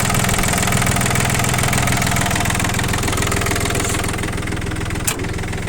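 A Wingmar F220 mini tractor's engine idles steadily and evenly up close, a continuous loud mid-pitched diesel chug with a slight knocking rhythm throughout, and a brief click near the end.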